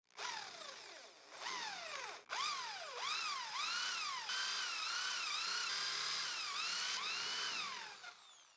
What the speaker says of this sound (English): First, I'll drill with the 35 millimeters bit.